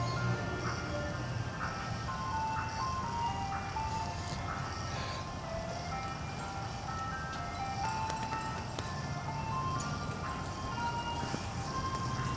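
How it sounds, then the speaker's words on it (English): A second ice cream truck plays the Picnic song music-box jingle, its tinkly melody repeating steadily at moderate distance over a constant outdoor background of traffic and street noise. "It's a double ice cream truck."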